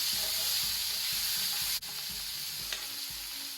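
Squid fries with tomato and green chillies in a pan over a low flame, a continuous soft sizzle with a steady rhythm of stirring scrapes and no speech.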